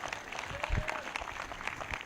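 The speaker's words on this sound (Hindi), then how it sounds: "वो ताली बजाकर धन्यवाद कर रहे हैं।" Congregation at a Hindi-language church service applauding in thanks, a steady wash of many hands clapping at moderate volume with no distinct voices on top.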